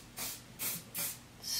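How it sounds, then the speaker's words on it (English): Hairspray is sprayed onto hair in four short hissing bursts with brief pauses between, close and fairly soft, no speech. "Okay, so now I'm gonna do hairspray."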